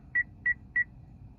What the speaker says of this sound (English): Push again until we hear it beep.